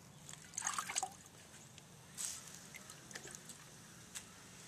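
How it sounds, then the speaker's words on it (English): Beef fat rendering down in a pot set directly in a fireplace fire, giving scattered wet pops, drips and sizzling crackles over a low steady bed of fire noise, with a few louder bursts. "I'm rendering fat, not not frying meat."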